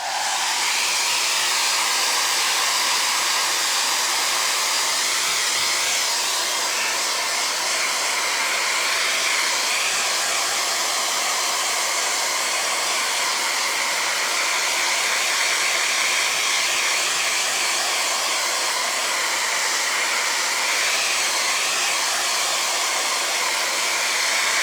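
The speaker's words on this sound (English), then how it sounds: "I'm going to hit this with the dryer. It's going to be loud." A hair dryer runs loud and steady at close range, a continuous broadband whoosh that holds nearly unchanged for the whole stretch with no talking over it.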